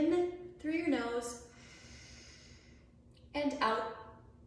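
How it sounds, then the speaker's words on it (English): A person at a walking warm-up draws a deep breath in through the nose and lets it out through pursed lips, heard as two soft, breathy airflows with a steady low hum underneath. "breathing in through your nose"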